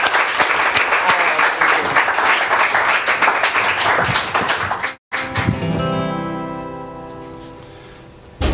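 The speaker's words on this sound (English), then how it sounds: "one more round of applause for this wonderful group." Audience applause at a small local live music show, lively clapping for about five seconds, then a brief cut followed by ringing guitar notes as the applause dies away.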